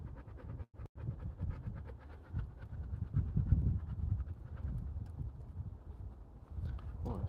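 A dog pants close by in quick, steady breaths that carry on through the whole stretch, with some scratchy movement and one short break early on.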